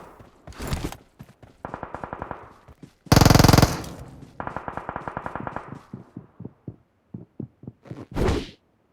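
Gunfire from the mobile battle royale game PUBG Mobile comes in several bursts: rapid automatic rattles, one loud sustained volley, then a run of single spaced shots and a final short blast, heard alone without talk.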